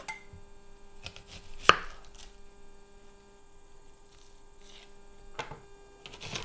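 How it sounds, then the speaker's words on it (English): A kitchen knife slicing an onion on a board, a few isolated crisp chops spaced out over a quiet room with a steady low electrical hum underneath. "I'm going to cut the onion."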